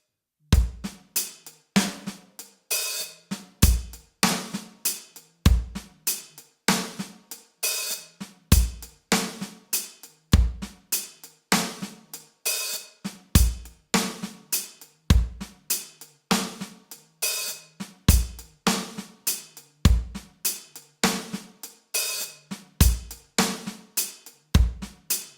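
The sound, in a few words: Drum groove with hi-hat played on drum kit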